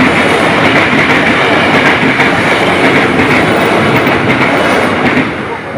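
A train rolls past very close on railway tracks, loud and continuous, with rumbling wagons and steady clickety-clack from the wheels.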